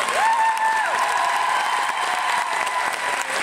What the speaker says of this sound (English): est-ce qu'on pourrait applaudir Mathieu pour la scène finale s'il vous plaît